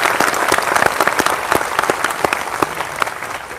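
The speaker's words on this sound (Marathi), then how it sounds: "ही पण काही टाळी मला काही बरोबर वाटली नाही।" A protest crowd in Nashik claps together in a dense, steady burst of applause, with many hands striking quickly and evenly and no voices over it.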